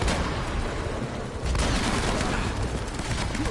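Dense, constant gunfire fills an Uncharted video game firefight, with rapid overlapping shots and booms forming a loud, continuous barrage.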